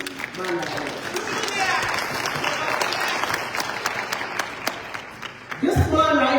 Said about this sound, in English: A big round of applause to this man like that.